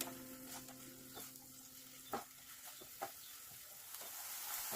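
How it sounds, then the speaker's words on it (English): Finely chopped onion sautéing in oil in a pan, a faint soft sizzle with scattered clicks of stirring and a utensil tapping, quiet and close with no talking. "Add 1 finely chopped onion and saute it for 2 to 3 minutes"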